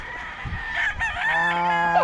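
A rooster at a Philippine gamefarm crows once, close and loud, in a drawn-out cock-a-doodle-doo over faint background noise.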